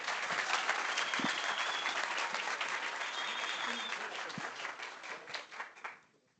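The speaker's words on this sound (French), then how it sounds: "On peut l'applaudir parce que c'est sa première fois." An audience at a business event applauds a first-time speaker, with brisk, dense clapping close by that thins into a few scattered claps and dies away near the end.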